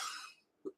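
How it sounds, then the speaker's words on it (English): A person gives one short, sharp cough, close and fairly quiet, just after a fading breathy hiss. "Of course, I get on and start coughing."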